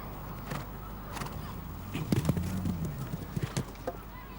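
Horse hooves clip-clop on turf during a show jumping derby at Hickstead, scattered thuds and knocks at moderate distance, with a commentator talking over them and crowd ambience beneath.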